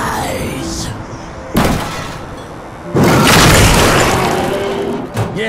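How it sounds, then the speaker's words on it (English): A big in-game explosion in The Darkness II: a sharp boom hits, then a louder, longer blast roars and rumbles for a couple of seconds before tailing off, with a final smaller bang near the end. "a big explosion"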